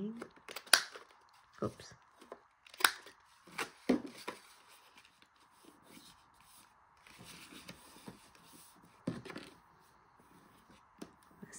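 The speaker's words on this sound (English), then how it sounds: "And now I'm going to corner around these two corners" Several sharp punch clicks from a corner rounder cutting the corners of a 12x12 paper journal booklet, brief snaps spaced a few seconds apart, with a short spoken word in between.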